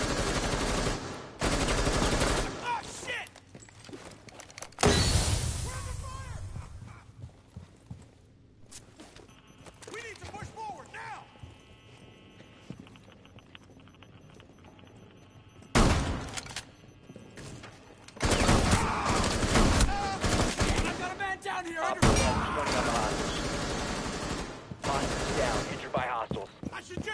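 Gunfire in the video game Rainbow Six Siege, loud bursts of automatic fire separated by quieter stretches of game noise, with rapid volleys near the start, middle and end.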